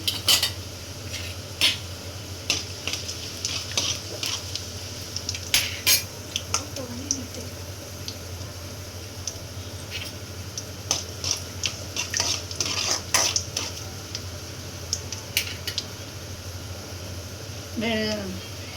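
Mustard seeds, urad dal, fenugreek and cumin fry in hot oil, making a steady soft sizzle broken by frequent metallic clinks and scrapes of a spoon stirring the pan.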